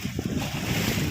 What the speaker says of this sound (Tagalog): lakas ng hampas ng alon.